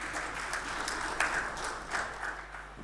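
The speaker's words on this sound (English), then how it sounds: "A big round of applause to Madam again" Brief applause from a conference audience in a hall, a soft, diffuse patter of many hands clapping at moderate distance for a few seconds.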